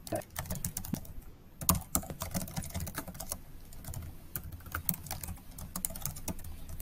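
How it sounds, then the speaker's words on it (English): Rapid, irregular clicking of keys on a computer keyboard, steady and fairly close, with no voices. "Now we can just hear someone's typing."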